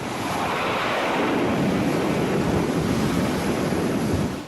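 An aircraft launch off the bow catapult of a large aircraft carrier comes through as a loud, sustained roar of jet noise and wind for several seconds, with no talking.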